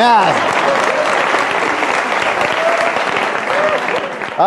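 Studio audience applauding at a television talk show, a dense, sustained burst of clapping close by, with a voice briefly heard at the start and the end.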